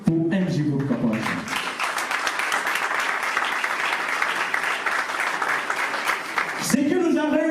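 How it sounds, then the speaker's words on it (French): An audience at an evening conference for MG Group Corporation bursts into sustained, dense applause lasting several seconds, with a speaker's voice heard briefly before and after it. "Applaudissons tous"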